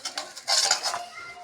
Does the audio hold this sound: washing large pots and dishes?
yes